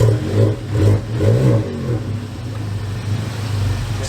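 A tuned Volkswagen GTI engine revs up repeatedly in strong bursts on a dyno, then settles into a loud sustained drone, close and dominant with no talking.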